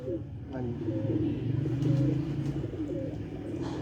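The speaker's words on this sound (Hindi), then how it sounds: "मदीने वाला बड़ा टैडी कबूतर" A large Madina teddy pigeon coos up close in low, throaty, repeated rolls that run through the whole stretch, with a faint background hum.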